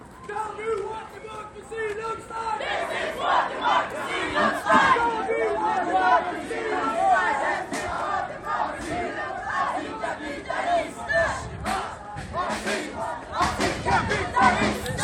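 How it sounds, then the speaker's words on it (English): A crowd of protesters at an anti-austerity march shouts and chants in French, a dense, continuous mass of overlapping voices and cries rising and falling without pause. "militant protesters shouting in French"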